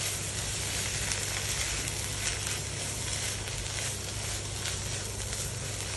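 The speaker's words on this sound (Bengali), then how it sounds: "নিয়ে আর খানিকক্ষণ নাড়াচাড়া করে আমাদের এটা নামিয়ে নিতে হবে।" Spinach and shrimp paste frying in oil gives a continuous, even sizzle close by with faint stirring underneath, and no voices are heard.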